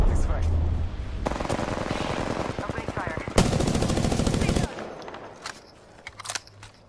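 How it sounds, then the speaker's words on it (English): Automatic gunfire rattles in Apex Legends, loud, rapid bursts of close machine-gun fire lasting a few seconds, then trailing off into scattered shots. A voice talks over the shooting. "They're taking fire. They spotted me. I'm taking shots."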